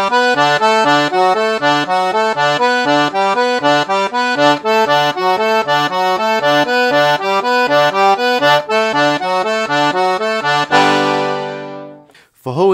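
Piano accordion loops a repetitive forró arpeggio pattern of Brazilian dance music, bright reedy notes cycling steadily and loudly for about ten seconds before a sustained chord and a short fade.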